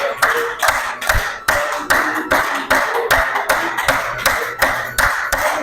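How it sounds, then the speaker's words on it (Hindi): Rhythmic group hand clapping at a yoga session in Raigarh, Chhattisgarh: a steady run of loud, evenly spaced claps in unison, close and alone with no talking. "1 2 3 करते हो ताली बजाओ"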